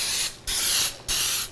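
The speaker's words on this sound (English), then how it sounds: "So I'm gonna spray it with some baking spray." Baking spray coats a 9x13 cake pan in three short, loud hissing bursts separated by brief pauses.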